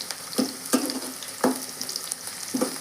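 Chopped onion pieces frying in a pan for fenugreek-leaf dal, with a steady soft sizzle and four sharp stirring scrapes spaced about a second apart, close and moderately loud with no voices.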